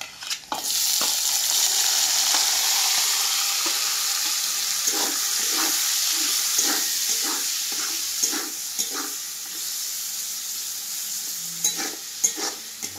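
Tomatoes added to browned onions sizzle loudly and steadily in a pan, with intermittent spatula scrapes and clinks close by. The frying continues throughout without speech.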